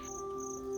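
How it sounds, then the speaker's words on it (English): Crickets and other insects chirp at night outside an off-grid bamboo house, making a steady, continuous high trill with a few pulsing calls layered over it, close and clear with no voices. "fall asleep with the relaxing sound of crickets and insects at night"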